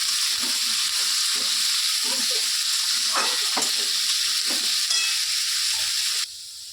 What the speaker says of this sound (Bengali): আলুটা কিছুটা ভাজা হয়ে এসছে